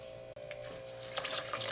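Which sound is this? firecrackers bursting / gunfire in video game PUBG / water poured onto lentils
water poured onto lentils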